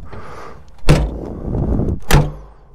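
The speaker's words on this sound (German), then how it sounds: "Tür zu." A Piaggio Ape 50 three-wheeler's door thuds shut, two solid close-up knocks about a second apart, with a faint rattle of the cab between them.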